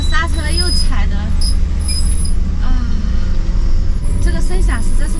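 A car's brakes squeal shrilly in repeated high-pitched bursts while it descends a steep, narrow mountain road toward Medog in low gear, over a rumbling engine and road noise, with someone talking.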